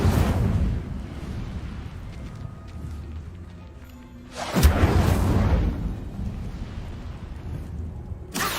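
A fire spell cast in the Hogwarts Legacy video game: one sudden roaring whoosh of flame bursts out midway over a steady rumbling game ambience, then trails off slowly.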